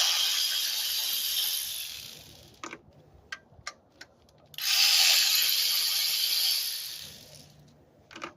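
Ratchet loosening the 10 mm nuts that hold the ignition coils on a 2007-2011 Toyota Camry engine during valve cover gasket work, a short run of sharp ticking clicks set between two longer stretches of rushing hiss, close with no talk.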